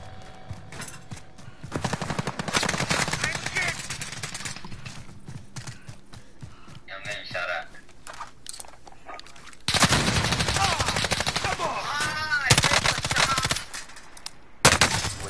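Call of Duty gunfire: rapid automatic bursts and scattered shots, some close and loud, some farther off, with radio chatter and voices between volleys.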